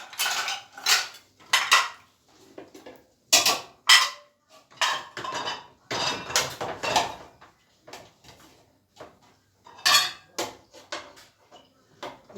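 Plates, dishes and cutlery being handled in a home kitchen, a series of irregular clinks, clatters and scrapes of crockery at close range, coming in bursts with short quiet gaps, no one talking.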